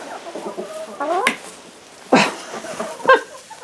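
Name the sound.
chickens clucking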